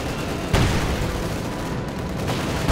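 T-34 tank machine guns fire in a Company of Heroes 2 battle, a dense, loud clatter of gunfire with a heavy burst near the start over a constant roar of combat.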